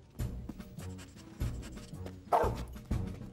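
A cartoon dog barks in a series of short, sharp, close woofs with small whimpers between them, evenly spaced over a few seconds, with no talk.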